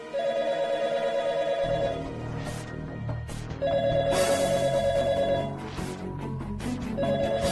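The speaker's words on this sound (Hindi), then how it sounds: "फोन" A telephone rings in a repeating electronic pattern of bursts separated by pauses, loud and clear over a low droning dramatic music bed in a television drama scene.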